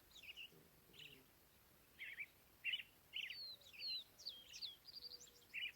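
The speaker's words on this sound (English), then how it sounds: "First Vesper sparrow I heard this year." Vesper sparrow singing outdoors at dawn on farmland, a series of faint, distant bursts of chirps and trills repeating over a quiet background.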